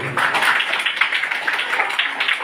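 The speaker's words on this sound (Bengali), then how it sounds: "সবাই মিলে একটু করতালি দেবেন" An audience claps together at a school study center's silver jubilee celebration, a dense, continuous patter of many hands throughout.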